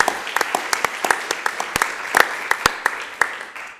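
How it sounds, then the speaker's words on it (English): Applause from a gathering at a community college district board of trustees meeting, a steady round of clapping with sharp, irregular individual claps standing out near the mic, with no talking over it. "So if you can please join me in a round of applause for Nancy."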